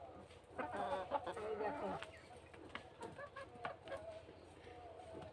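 Chickens cluck and peck while eating chopped vegetable scraps tossed to them, several birds clucking close by under a person's speech.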